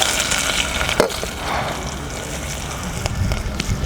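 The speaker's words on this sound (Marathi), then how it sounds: "आता तेल गरम झालेले आता आपण ह्यामध्ये हिरव्या मिरची घालूया" Green chillies and crushed peanuts frying in hot oil for an Ekadashi fasting dish, a steady close sizzle and crackle with a few sharp pops and stirring clicks, no voices.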